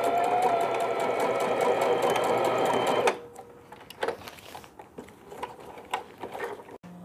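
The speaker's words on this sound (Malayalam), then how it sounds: "ടോപ്പിൽ സ്റ്റിച്ച് ചെയ്യാം." A sewing machine top-stitching a hanging baby laundry bag runs in a steady, fast whirring stitch for about three seconds, then stops, leaving soft handling and fabric clicks nearby.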